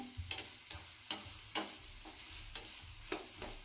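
Vegetables for fried rice sizzle in a pan as a utensil scrapes and tosses them in regular strokes, quiet and close.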